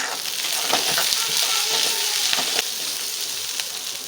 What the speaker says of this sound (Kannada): ಚಾರು ಒಂದು ಹಾಕ್ಕೊಳ್ತಾ ಇದ್ದೀನಿ ಪೈ ಹಾಕೊಳ್ತಾ ಇದ್ದೀನಿ ಇದೆಲ್ಲ ಸ್ವಲ್ಪ ಫ್ರೈ ಮಾಡ್ಕೊಳ್ಳೋಣ